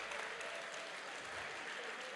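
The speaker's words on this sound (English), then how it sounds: "How's about a nice round of applause for" Audience applause for musical performers at an evening county address in Maui, a brief wash of clapping heard at a distance, faint and steady with no voices standing out.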